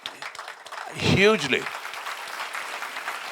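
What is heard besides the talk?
audience applause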